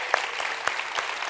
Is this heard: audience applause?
yes